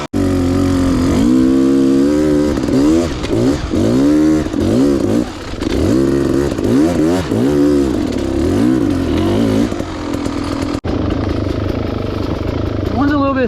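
A dirt bike engine revs up and down repeatedly in second gear during a training ride, loud and close with rhythmic acceleration surges, then drops to a steadier drone near the end.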